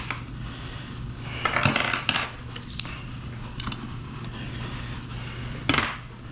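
Metal lock washers clink and jingle sparsely as they are handled, small bright taps scattered over a quiet background.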